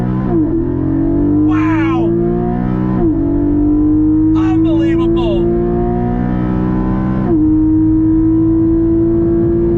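A 2021 Porsche Cayman GT4 PDK engine roars hard from a standstill using launch control, revving up through several rising gear pulls with brief drops between shifts, loud and close, with an excited shout over it.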